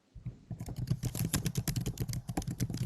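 Typing on a computer keyboard, a dense run of close, fairly loud clicking keystrokes in irregular bursts, with no talk over it.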